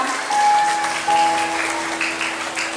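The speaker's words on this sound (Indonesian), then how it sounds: "tepuk tangan dong untuk mereka bertiga" Applause from a crowd at an Indonesian Independence Day (HUT RI 81) community celebration in Banjar Anyar, Kerobokan, Bali, a steady moderate clapping wash lasting a few seconds with a faint tonal hum underneath.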